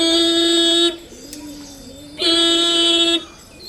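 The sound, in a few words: voice imitating a motorcycle horn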